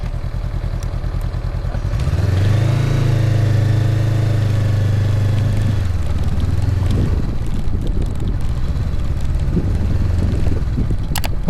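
A Honda NX500 motorcycle engine rumbles close by at low speed, rising as it pulls up onto a sidewalk and then dropping to a steady idle, with wind buffeting the microphone.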